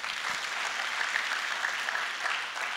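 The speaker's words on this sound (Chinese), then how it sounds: "给我一个掌声先。" An audience at a Malaysian Chinese-language Atomy sales seminar claps in a dense, even burst of applause that fills the room and holds steady for a few seconds.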